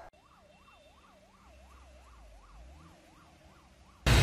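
Ambulance sirens wailing in a steady rising-and-falling pattern as a fleet of seven ambulances is flagged off from a district compound in Jamshedpur, with a low engine rumble underneath and a sudden loud burst at the very end.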